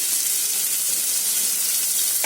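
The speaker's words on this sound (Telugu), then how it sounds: "నెక్స్ట్ కొంచెం చాప్ గ్రీన్ చిల్లీ వేసుకోండి. ఎక్కువగా ఫ్రై చేసుకోకండి, లైట్గా చేసుకోండి." Chopped green chilli and garlic fry in oil for a prawn pepper fry, a loud, even sizzle that holds steady throughout with a slight stir near the end.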